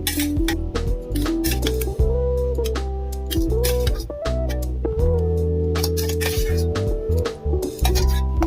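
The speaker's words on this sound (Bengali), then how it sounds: "এবার আমি মিক্সির বোলে পুরোটা ঢেলে নেব" Shrimp mixture is poured into a steel mixer grinder jar, with repeated metallic clinks and scraping taps ringing out close and loud throughout, one after another at an uneven rhythm.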